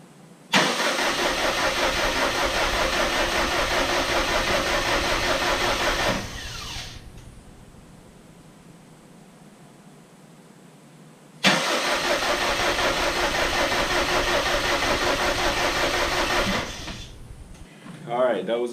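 A freshly swapped, built Subaru STI engine cranks on the starter for two long stretches of about six seconds each, with a loud, steady, whirring churn and a quiet pause between, close by.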